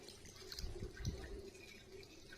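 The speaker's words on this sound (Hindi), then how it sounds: "तो अब हम इसमें पानी डालेंगे।" Water pours into a cooking pot holding beef trotters for paya, a steady watery splash with a few louder gushes, quiet and close, with no one talking.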